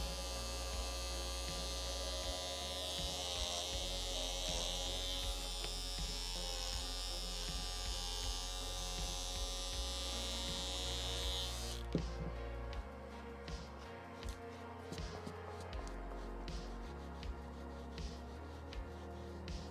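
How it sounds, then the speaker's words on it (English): An electric shaver trims the pile of a rug being made, giving a steady, close buzzing hum with no talk. The tone drops and turns rougher partway through as the blades bite into the fibres. "And also it gives a better color to it if you shave it a little bit."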